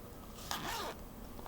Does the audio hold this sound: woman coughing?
no